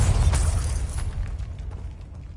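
A Bombarda spell goes off in Hogwarts Legacy, a loud close burst that fades into a rumbling tail over about two seconds.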